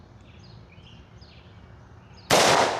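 A single sharp blast from a Smith & Wesson M&P 10mm Carry Comp compensated pistol goes off at close range near the end, loud and abrupt with a ringing decay, after a stretch of quiet outdoor ambience.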